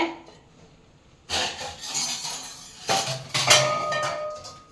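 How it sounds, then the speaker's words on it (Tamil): A metal idli pot clanks onto a gas stove grate, followed by a few more clinks and knocks of cookware, close and fairly loud. "இட்லி பாத்திரம் வைக்கிறேங்க கேஸில்."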